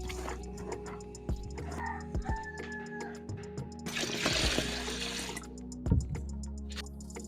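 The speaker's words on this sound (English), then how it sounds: "I'll now go ahead and wash the musk melon seeds and blend." Musk melon seeds being washed in water by hand, splashing and swirling with dripping and trickling, a few knocks and a stronger rush of water midway.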